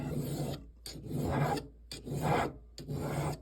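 A file rasps against a cast gold signet ring in four close, even strokes separated by brief pauses, a dry scraping rub with no talking.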